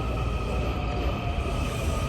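A metro train stands at a station, its steady low rumble and hum close by and continuous, with no voices.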